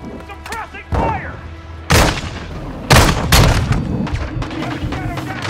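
Heavy gunfire and booming blasts in the Call of Duty Modern Warfare 2 campaign, several loud sharp bursts about a second apart with echoing thuds and rumble filling the gaps, under occasional voices.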